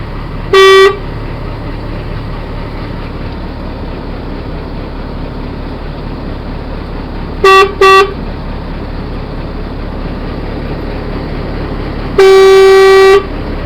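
Car horn honking over a steady engine rumble: one short toot, a quick double toot, then a longer blast, loud and close.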